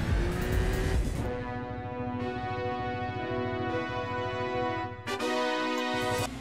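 A race car in the Gran Turismo 4 video game drives to the finish line with a loud, rising engine whine, a gear change dropping the pitch midway, then revving up again.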